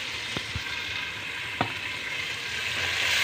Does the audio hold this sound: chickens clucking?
no